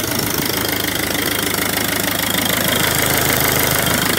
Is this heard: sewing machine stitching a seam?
no